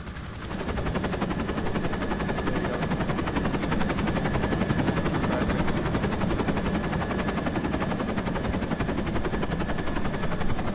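Firefighting aircraft in the EmergeNYC wildfire game, a steady loud rotor and engine drone with rapid chopping pulses as it sets down and is refilled by ground units, continuous throughout with no talk.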